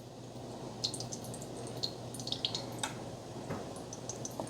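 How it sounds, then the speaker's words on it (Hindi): Excess water from yogurt squeezed and twisted in a cloth drips and squishes in faint, scattered drops over a low steady background hum. "दही का सारा जो पानी है, एक्सेस पानी, वो निकल आएगा।"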